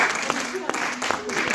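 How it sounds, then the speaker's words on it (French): A church congregation applauds to welcome a new worship group, a short burst of clapping up close. "On peut acclamer pour une nouvelle groupe d'adoration"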